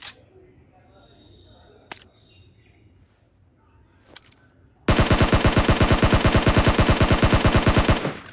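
Rapid automatic gunfire from a SCAR-L rifle in PUBG Mobile, a loud sustained burst of about three seconds with evenly spaced shots, after a few sparse single shots and quiet game ambience.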